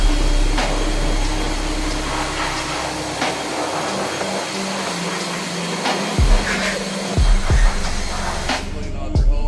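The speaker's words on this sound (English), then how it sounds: "I like to come back with a blower like this." A handheld air blower cleans lint out of a Whirlpool clothes dryer with a loud, continuous roaring hiss. Several short bursts and thuds come near the end.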